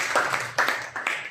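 A church congregation claps in a brief burst, several hands striking in quick uneven rhythm close by, with no other sound around it.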